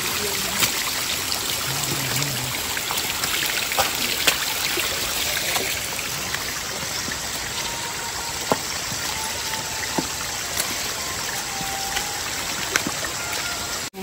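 Natural spring water trickling and splashing steadily beside the stone steps of Girnar hill, a continuous close wash of flowing water with occasional small drips and knocks.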